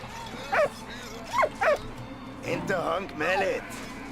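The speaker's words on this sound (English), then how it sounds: "Dog wants water." A dog in the Valiant Hearts World War I video game, at a German camp, gives several short yips and whimpers, then a longer run of whining barks, with no other sounds over it.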